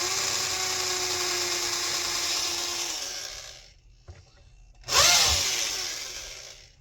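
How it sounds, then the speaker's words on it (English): Electric drill driving screws into an FMS 1/6 scale Suzuki Jimny model, a loud close whine that runs steadily, stops for a moment, then starts again in a sharp burst and fades. "Hope the drill is going the right way."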